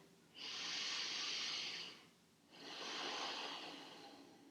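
Two long, deep breaths during a yoga chest-opening exercise, each a steady airy hiss lasting over a second, heard close and quiet with a short pause between them.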